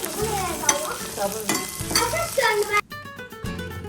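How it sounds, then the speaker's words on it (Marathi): Coriander and dried curry leaves stir-frying in hot oil in a home kitchen, with a steady close sizzle and repeated scraping stirs that thin out near the end, no talk. "आता कोथिंबीरचा थोडासा ओलसरपणा कमी करण्यासाठी मी हे तेलामध्ये थोड्या वेळाने परतू देणार"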